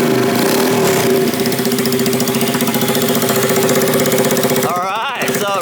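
Fuel-injected 125cc turbo go-kart engine running loudly and close, a steady buzzing drone throughout that cuts out near the end into a brief wavering whine and quiet.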